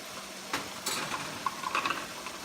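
A spoon stirs pork filling with green peas in a pan for empanadas, producing soft scraping swishes and a few light clicks over a quiet background.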